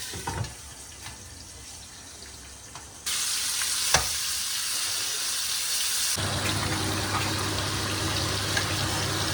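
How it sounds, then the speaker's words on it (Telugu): Green chillies frying in a pan for a mint, coriander and tomato chutney, with a steady, loud sizzle that jumps up in two stages and holds, along with a few stirring clinks. "పచ్చిమిరపకాయలు కొంచెం సేపు దాన్ని కుక్ అవ్వనిద్దాం."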